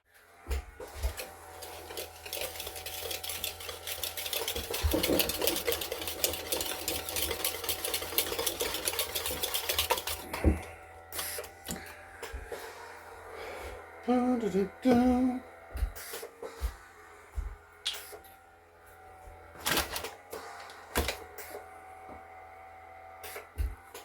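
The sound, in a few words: mixing zucchini bread batter with brown sugar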